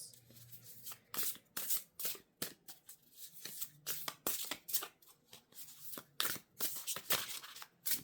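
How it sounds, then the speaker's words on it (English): A tarot card deck is shuffled by hand up close, a quick series of crisp riffling and slapping bursts in an uneven rhythm, fairly quiet with no talking. "I'm just gonna shuffle a card for us."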